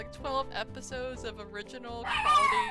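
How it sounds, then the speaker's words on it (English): A pet dog barking and yipping indoors in short high bursts, the last one louder and whining, mixed under a person talking over it. "that was my dog."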